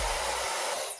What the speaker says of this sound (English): I'm gonna take my blow dryer and kind of go in here with the heat